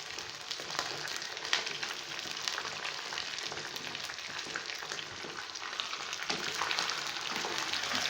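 Chicken pieces frying with golden-browned onions in a pot for biryani, with a steady soft sizzle and occasional stirring scrapes, quiet and close.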